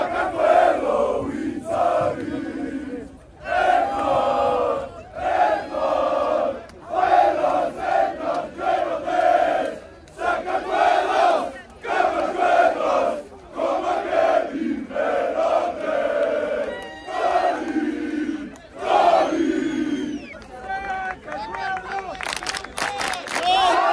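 Georgian national team football fans chant in unison at the European Championship, a loud, rhythmic crowd roar rising and falling in waves, with bursts of shouting and clapping throughout.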